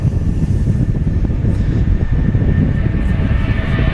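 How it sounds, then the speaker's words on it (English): Jet2 Boeing 757 rolling for takeoff at Manchester Airport, a loud, steady engine roar with a broad rumble that holds constant throughout. "it's the Jet2 rolling. 757."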